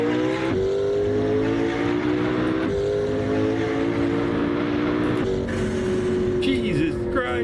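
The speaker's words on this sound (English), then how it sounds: "This is what cars should always sound like." A turbocharged or naturally aspirated race car engine in Assetto Corsa racing gameplay roars loudly and steadily, shifting pitch with brief gear-change dips, while a voice talks over it.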